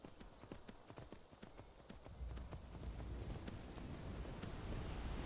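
Hooves of a horse in the Skyrim video game clip-clop in a steady walking rhythm, crisp and close, over a background of wind and surf-like rushing noise that swells and takes over in the second half.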